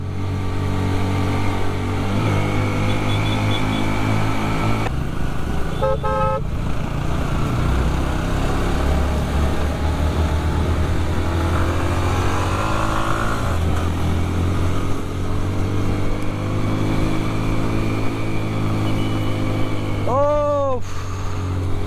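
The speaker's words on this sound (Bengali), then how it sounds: "আমার সাত হাজার আরপিএমে উঠতেছি এক গিয়ারে" Motorbike engine held at about seven thousand rpm in first gear while climbing a steep, rough hill road; a loud, steady drone with rising harmonics runs throughout, with someone talking over it.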